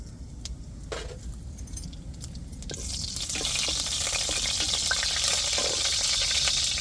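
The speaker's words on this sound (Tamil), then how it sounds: "இப்போ வந்து நம்ம தாளிப்புக்கு வந்து பெருஞ்சீரகம் கருகப்பட்டை இதுகளை சேர்த்துக்கிடுவோம்" Fennel seeds and cinnamon fry in hot oil for tempering, a steady crackling sizzle that grows louder and brighter partway through and then holds, with no voices.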